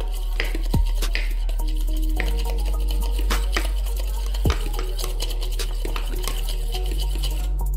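Utensil stirring an oil, lemon and pepper sauce in a bowl, with repeated clinks and scrapes against the dish over a steady low hum, close and moderately loud.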